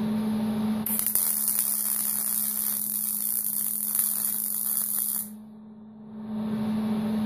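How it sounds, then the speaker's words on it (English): TIG welding on a magnetic torch holder, with a steady hiss and crackle of the arc running for about four seconds over a constant electrical hum, then cutting off and leaving only the hum. "Welding it from both sides."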